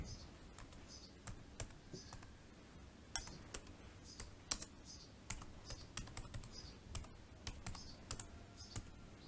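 Keys clatter on a computer keyboard in rapid, irregular bursts of clicks, close and fairly quiet, with faint background hum and a little low voice in the room.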